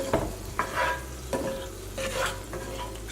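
Chicken and honey glaze being stirred in a hot pan: a steady sizzle with repeated scraping strokes of a utensil at a close, moderate level, and no voices.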